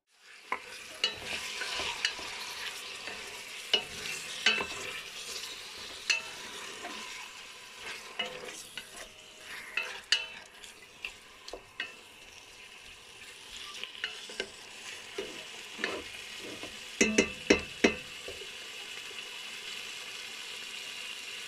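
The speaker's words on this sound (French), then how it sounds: "maintenant je vais passer à la cuisson" Spiced food with cumin, pepper, salt and paprika frying in a pan, a steady close sizzle running throughout with scattered sharp clicks and scrapes of stirring, louder bursts near the end.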